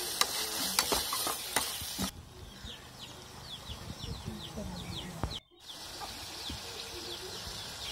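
Tomato sautéing with ginger and garlic in a pan for a chicken and drumstick curry: a few spoon stirs and clicks at the start, then a steady, moderate sizzle, with birds chirping in the background.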